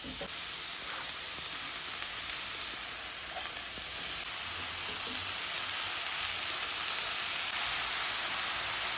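Bitter gourd frying in hot oil with mustard seeds, a loud, continuous close-up sizzle and hiss that holds steady for the whole stretch, with no talking.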